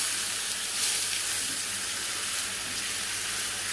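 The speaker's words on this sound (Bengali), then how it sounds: "এবার জল দিয়ে দেবো" Water poured into a pan of frying mustard tilapia curry, a steady hissing sizzle and rushing pour, close and continuous.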